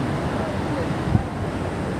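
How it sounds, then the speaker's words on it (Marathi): Swollen Subedar waterfall after sudden heavy rain, heard as a steady broadband rush of water, loud and continuous throughout with no voices. "लय पाणी वाढलेलं आहे हा बेकार पाणी वाढलेलं आहे"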